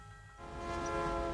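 Train rushing past in the mobile game Crossy Road, a steady horn-like tonal blare rising over rumbling rail noise and growing louder across the short moment.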